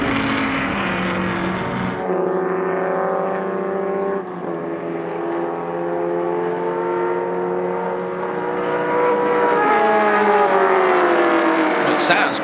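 Shelby race car in the production GT up-to-5-litre class at Sonoma, its loud engine roaring at full speed on track, pitch sliding as it shifts gears and passes by, with a commentator talking over it.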